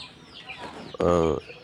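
Silkie and tiger chickens on a farm give a few soft clucks, then one loud, drawn-out squawk, close by.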